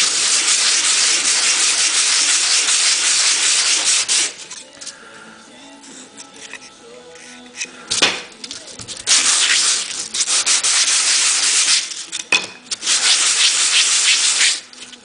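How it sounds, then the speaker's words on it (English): Glued plywood rubbed back and forth on sandpaper over a flat surface, loud close rasping strokes in long bursts with short pauses between them, no voices. "press it to the sandpaper on a flat surface and smooth out your glues and your excess plywood before you proceed."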